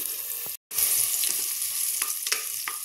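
Onions fry in a pan for a soya pulao, giving a steady close sizzle with a few stirring clicks and one brief dropout.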